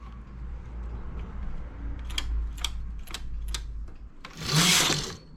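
A domestic knitting machine runs a finishing edge in crystal wool at tension setting 6, giving a series of sharp mechanical clicks followed by a louder sliding carriage swish, close and alone.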